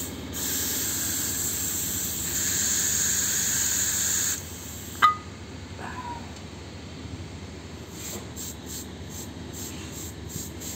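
Loud, steady air hiss as a bladder-type pressure tank is pumped up, cutting off sharply partway through, followed by a few faint clicks and light knocks.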